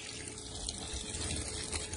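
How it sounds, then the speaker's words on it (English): Lake water poured onto ice in a bait container to make slush for keeping bait fresh, a steady close trickle and splash running without pause, with no talking. "Put some water on this ice."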